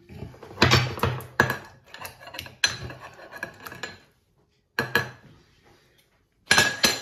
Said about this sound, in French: Je vais mettre le couvercle.